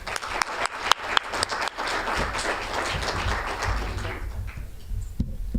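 Banquet guests at the UNC Swimming and Diving Banquet applaud the swimmers: a few sharp separate claps build into a full, steady round of clapping that thins and fades toward the end.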